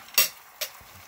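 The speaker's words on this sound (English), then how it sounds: "You can hear it start to sizzle. Throwing in my garlic." Garlic hitting a pan of peanut butter chili salsa sauce, two sharp bursts of sizzle a fraction of a second apart, each fading quickly, with a soft stirring scrape afterward and no talking.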